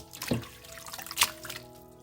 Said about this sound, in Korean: 물에 담궈가면서 여러 번 헹궈줘야 돼요